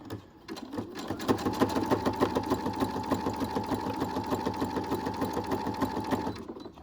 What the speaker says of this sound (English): it's going to stitch back and forth across the bias tape